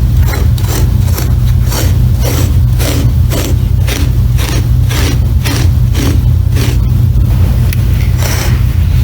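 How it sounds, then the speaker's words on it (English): A pet hair removal tool is dragged across carpet in rapid repeated strokes, each a harsh, close scraping rasp in a steady back-and-forth rhythm over a constant low hum. "the sounds made by running this tool over the carpet seem harsh"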